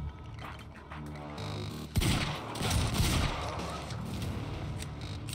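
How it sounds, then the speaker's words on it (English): A time blast power unleashed in the Quantum Break video game erupts as a sudden loud burst of crackling, gunfire-like impacts, then rumbles on in a dense, noisy wash. "How about a time blast?"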